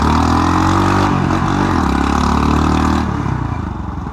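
A Superlight 200 motorcycle engine revs loudly and close, its pitch rising and falling through several throttle blips before settling lower and fading slightly at the end.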